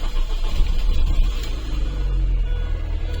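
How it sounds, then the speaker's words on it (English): A Mini's engine starts and runs steadily, a continuous low rumble that stays close and fairly loud throughout, with no talk. "so we'll start up the car."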